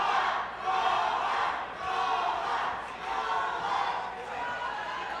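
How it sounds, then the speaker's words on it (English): Arena crowd at a Best in Boxing bout roaring in support of boxer Armando Tovar, a dense sustained wall of cheering and shouts that swells and dips in waves, with a commentator's voice faintly underneath. "The crowd getting behind Armando now again."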